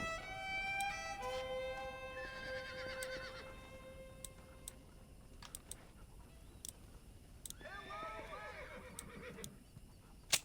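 Horses neigh and whinny in the Red Dead Redemption video game, several high, wavering calls in quick succession over faint hoof clicks, then another whinny later, close and fairly loud.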